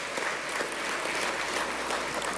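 An audience at a national honours ceremony gives a student combined band a sustained round of applause, a dense, even clatter of many hands at moderate volume.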